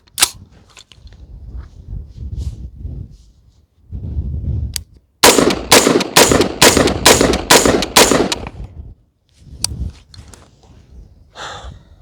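An AR-15 rifle with a heavier H2 buffer fires a quick string of about eight loud, sharp shots in a row, cycling sluggishly, with a couple of isolated shots and quieter handling noise around them.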